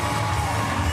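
A crowd cheers and shouts at a Paralympic weightlifting competition in Paris, a brief, dense burst of voices at steady loudness.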